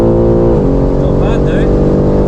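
A BMW G80 M3 Competition launches on a quarter-mile drag strip on cold tyres, its engine roaring loud and close, the pitch dipping then climbing again as the wheels spin for grip.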